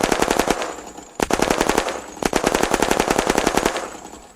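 A high fire-rate machine gun in the zombie shooter Unturned fires sustained rapid bursts, loud and close, with two brief pauses between strings of shots.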